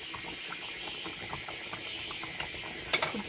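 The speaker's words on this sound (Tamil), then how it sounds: "நல்லா கொதிச்சிருச்சு வேறு." A pot of spicy South Indian fish curry with curry leaves boils steadily, giving a constant hiss with small bubbling pops and a brief louder sputter near the end.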